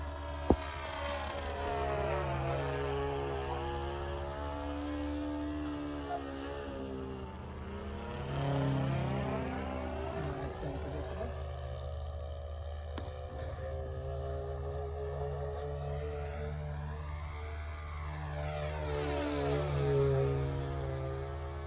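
A Sig Four Star RC model airplane with a four-stroke engine flies loops, its steady buzzing drone rising and falling in pitch as it climbs, dives and passes, heard from a distance with no talk.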